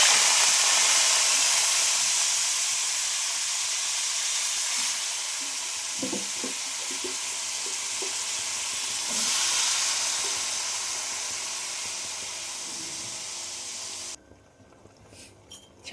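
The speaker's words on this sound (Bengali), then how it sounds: "সেই শাকগুলো এবার কড়াইতে দিয়ে দিই" Boiled, soaked greens drop into hot oil with spices in a wok, giving a loud, steady hiss and sizzle that drifts with a few stirring scrapes before cutting out abruptly near the end.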